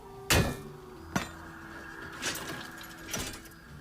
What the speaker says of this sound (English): A couple of blows with a hammer.